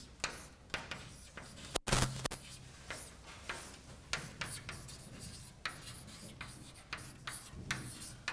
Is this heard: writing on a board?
yes